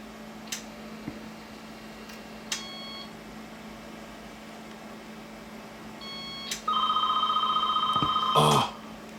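A dial-up modem dials out, a few sharp dial clicks and tones followed by a steady loud ringback tone on the telephone line near the end, over a faint constant hum.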